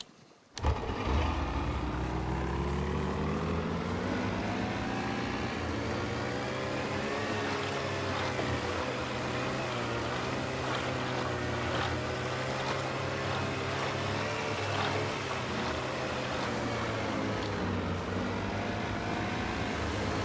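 A boat engine in the DayZ video game starts with a sharp catch and then runs at a steady, loud drone with a rough, throbbing rumble that holds throughout without any talk.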